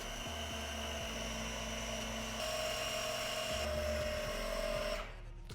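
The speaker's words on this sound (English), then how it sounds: "Now you'll start hearing this bag start going up." A vehicle's air suspension compressor inflates the rear air bags to lift the back end, a close, steady high-pitched motor whine with a constant drone for about five seconds before it stops.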